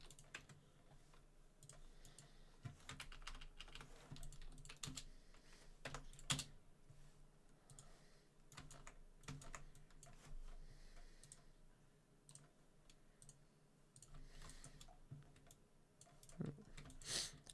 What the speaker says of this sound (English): just type in sheet tool and type some simple typography